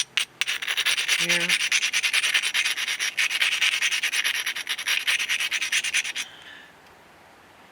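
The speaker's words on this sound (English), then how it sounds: "So we're going to grind the edges a little bit" Hand grinding along the edges of a flint stone being knapped, a fast rhythmic scraping rasp of steady strokes lasting about six seconds, with a brief spoken word early on, then quiet.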